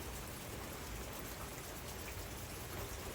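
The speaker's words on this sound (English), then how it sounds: "It's raining out." Steady rain falls on a mountaintop: a faint, even hiss that runs unbroken, with no voices over it.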